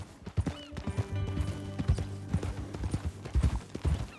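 Horse hooves clip-clop in a steady walking rhythm in the Red Dead Redemption video game, close and clear, mixed with faint jingling tack and ambient background sounds.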